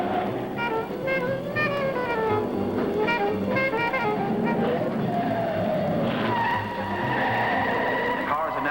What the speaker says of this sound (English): They've all shifted down and they're revving very high in order to get maximum power around these very sharp curves.